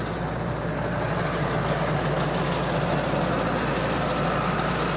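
A 60 HP tractor fitted with a super seeder idles nearby at a fair ground, a steady low diesel rumble holding constant without changes in pace.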